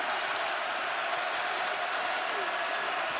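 Crowd noise swells at an NCAA college basketball game between UConn and Arizona, a dense, continuous roar of cheering and applause filling the arena, with a commentator's voice faintly mixed in.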